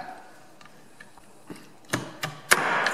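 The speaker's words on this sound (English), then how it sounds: "Two pins and the whole trigger guard pops right out." Pins being tapped out and the trigger guard popping free from a Remington V3 shotgun: faint clicks build to several sharp metallic clacks and a final louder snap, followed by a brief rattle of parts, close up.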